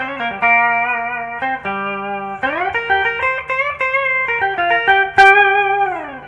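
Electric guitar played through a TC Electronic Sub 'n' Up Mini octave pedal with the octave effect turned all the way up, clean sustained notes and slides doubled by thick synthetic octave tones, loud and alone.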